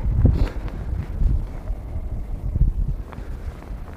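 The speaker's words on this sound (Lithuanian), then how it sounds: "O, vėjai stipriai." Strong wind buffets the microphone in uneven low rumbling gusts while fishing outdoors, with no voices.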